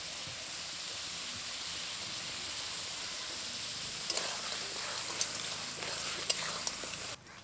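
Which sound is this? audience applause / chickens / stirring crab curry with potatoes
stirring crab curry with potatoes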